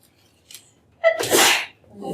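A single sharp sneeze bursts out loud and close, preceded by a short inhaled gasp, with a faint voice beginning just after in a quiet lecture room.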